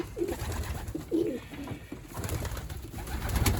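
Several soft, low coos from breeding pigeons repeat at an uneven pace against a rumbling background, fairly close and moderately loud.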